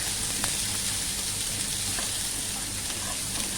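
Onions frying in a pan for a Bengal-style mint chutney: a steady, dense sizzle with soft crackles, even throughout and close by.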